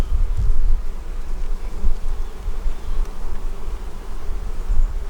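Honey bees from an aggressive, hot-tempered Bee Castle hive during fall feeding, buzzing in a steady, dense low drone that swells and dips slightly, close and continuous, with no talking.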